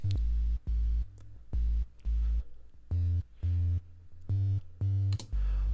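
A deep, heavy synth bass layered over an 808 repeats in a steady pattern of loud, sustained pulses, each cut off cleanly before the next.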